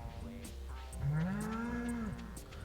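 Cows mooing in the Stardew Valley farming game, a long drawn-out bovine moo swelling over a steady background of game music, close and clear.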